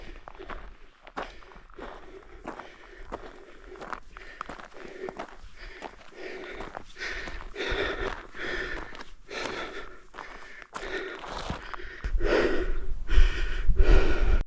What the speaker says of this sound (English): can you stop breathing so loud